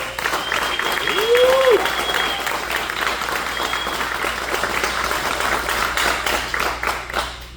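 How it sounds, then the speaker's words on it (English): A crowd at a union-hall townhall bursts into sustained applause with dense, close clapping, a brief whistle rising over it early on, and a few voices underneath. "I'd like to say if we could give an applause,"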